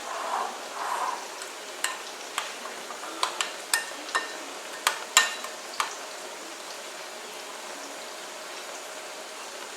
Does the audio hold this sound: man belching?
no